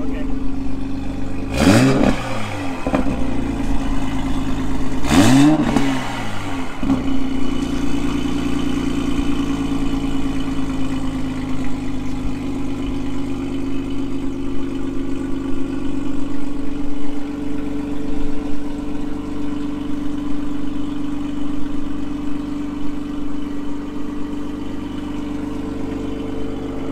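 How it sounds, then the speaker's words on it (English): A 1999 Honda Civic CX with a Revel Medallion Touring-S exhaust in non-sport mode idles steadily and revs twice in quick bursts early on, then settles back to a smooth, even idle. "Here, I'll rev it with non-sport."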